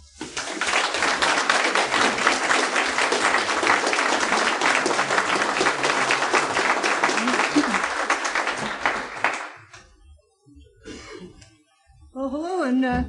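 An audience at an August 2007 lecture in Madison gives the speaker a welcoming round of dense, steady applause for about nine seconds, which then fades out into quiet rustling before a voice starts to speak.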